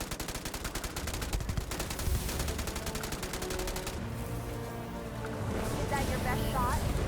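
Turret gunfire in the space game Starfield rattles in dense rapid bursts, loud and steady for several seconds before easing into background game noise as a person talks over it.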